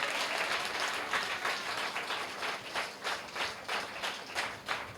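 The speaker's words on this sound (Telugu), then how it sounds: "నిత్య జీవాన్ని ఇచ్చే ఏసే నాకు కావాలి అన్నవాళ్ళు మనసారా చప్పట్లు కొట్టాలి." A congregation applauds during a Telugu Christian church service, a sustained burst of many hands clapping together, loud and dense, with a few individual claps standing out.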